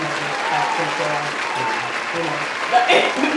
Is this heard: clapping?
yes